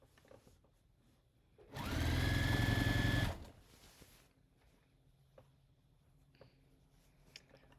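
Sewing machine running in a single steady burst of about a second and a half while stitching a criss-cross apron, loud and close against a quiet room, followed by faint handling noises.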